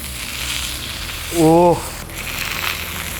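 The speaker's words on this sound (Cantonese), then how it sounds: "因為厚啲咧，就煎多一陣" Steady sizzling of a thick piece of dry-aged pork fat frying in a hot pan, with a brief tonal squeak or voice partway through.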